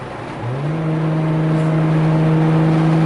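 Nissan Skyline R32 GTR turbo spooling under acceleration in fifth gear: a loud, close engine drone that rises in pitch early on, then holds as a steady, strong tone with a faint whine above it.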